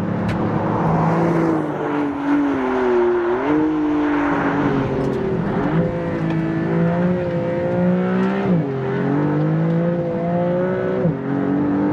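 An Alfa Romeo 33 Stradale engine is driven hard on a race track, its loud, close note rising and falling through repeated revs and gear changes, sustained throughout with no voices.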